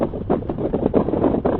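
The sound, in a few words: wind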